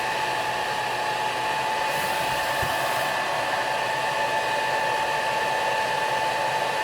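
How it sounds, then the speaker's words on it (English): A Mr Carve M1 Pro DPSS laser engraver marks at speed 400 and power 100, giving a steady, close whine with constant fan-like hiss and faint high tones throughout. "We're just going to fire that. Speed 400, power 100."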